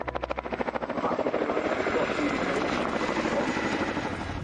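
Boeing Chinook tandem-rotor helicopter in flight, a loud rapid rotor thump fading into a steady broadband engine and blade roar that holds throughout.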